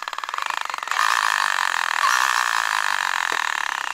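A Traxxas Stampede RC truck's small electric motor whines steadily, jumping louder about a second in as throttle is applied, with a gritty gear-case buzz and rattle underneath.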